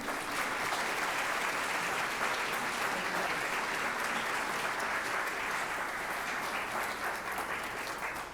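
A lecture-hall audience applauds steadily to welcome a speaker to the stage, a dense, even wash of clapping that holds at the same level from start to finish with no voices over it.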